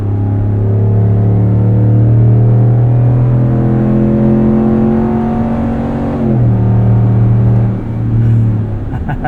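A 5.7-liter HEMI V8 in a Ram 1500 Longhorn Limited pulls a small red truck on a trailer, a loud, steady low engine drone that climbs in pitch, dips briefly as it shifts, then builds again, heard from inside the cab.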